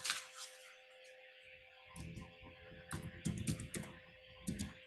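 Keys on a computer keyboard clatter in short bursts of quick taps with brief pauses between, close but fairly quiet against a faint steady hum.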